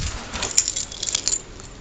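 Bunch of keys jangling near at hand, with bright metallic clinks and rattles in short irregular bursts over quiet background.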